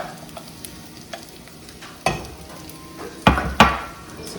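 Barley being stirred and toasted in a pan for a pilaf, a soft continuous scraping sizzle broken by a few louder clacks of the spoon against the pan, close up with no talking.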